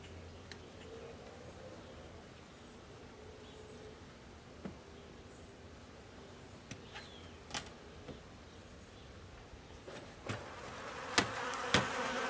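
A steady insect drone of many honeybees humming close inside a hive, with occasional sharp clicks and knocks rising toward the end.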